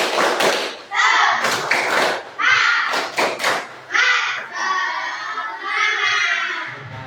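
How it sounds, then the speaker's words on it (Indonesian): Students in an Islamic education class perform the rhythmic 'tepuk semangat' clap, loud bursts of sharp, patterned claps in quick sets, broken by short pauses and voices joining in between. "kita tepuk semangat yang keras ya"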